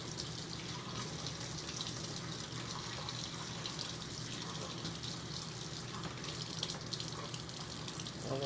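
Melon seeds being rinsed in a jar under a running kitchen tap, a steady close gush of water that continues without a break and with no talking.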